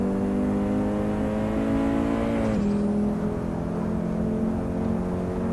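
Audi Quattro in Assetto Corsa on the Nordschleife, its turbo spooling with a steady engine drone and cabin rattle, pitch dipping briefly mid-run before climbing again, loud and continuous with no talk.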